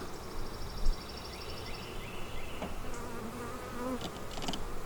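Honey bees hum in a steady, close swarm at an open beehive during an inspection, the buzzing continuous with individual bees drifting nearer and farther.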